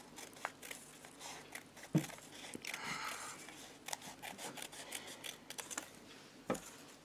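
Scissors snip through a paper strip while making a paper poppy, a few crisp cuts with rustling paper handling at close range, no talking.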